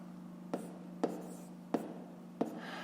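Pen strokes writing fractions by hand on paper during a fifth-grade maths exercise, four short distinct taps or scratches spaced about half a second to a second apart, close and fairly quiet over a steady low hum.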